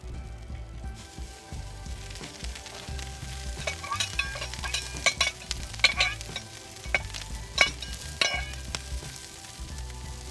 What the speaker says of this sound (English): browning that rice nicely. Just moving it around